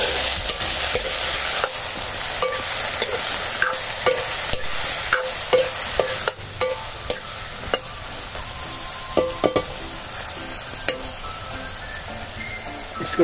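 Spices go into frying vegetables for a bottle gourd, pea and potato dish: salt, cumin, garam masala and turmeric. A steady sizzle is broken by frequent sharp taps and scrapes of a spoon against the pan, with no voices.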